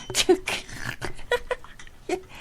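Dogs indoors whimper and whine in a string of short, high, uneven yelps and soft cries, fairly close, with some breathy noise between them.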